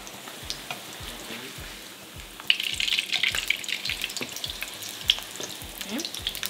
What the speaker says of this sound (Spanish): Van a poner otro sartén con aceite a calentar. Ya que esté caliente ponemos las tortillas.